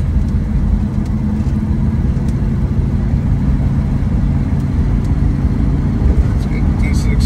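A 1969 Mustang Grande with a 302 engine pulls under steady acceleration, its low, constant engine drone and road rumble filling the cabin while someone talks over it.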